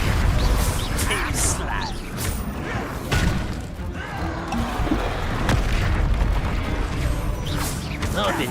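The Confringo blasting spell erupts in Hogwarts Legacy combat, with booming impacts and crashing bursts amid battle noise, while characters speak over the action.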